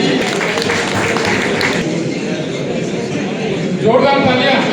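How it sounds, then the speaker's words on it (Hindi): Loud audience applause at an Engineer's Day ceremony marking Sir Mokshagundam Visvesvaraya's birth anniversary. A thick wash of clapping fills the hall and thins after a couple of seconds, then a voice begins speaking. "जोरदार तालियां"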